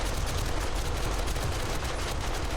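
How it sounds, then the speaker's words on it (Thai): Automated turrets in the video game 7 Days to Die fire in a rapid, unbroken stream of shots, loud and dense throughout with no pause and no speech. "ผมว่ากระสุนเราไม่น่าพอ แต่กระสุนป้อมปืนเราแม่ง รัวมาก"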